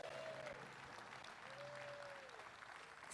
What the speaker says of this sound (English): if the crowd could help cheer everybody on